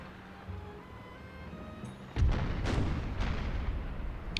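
Naval cannons fire in a Napoleon Total War sea battle: a quiet stretch gives way to a sudden loud boom, followed by several rolling blasts and rumbling reverberation.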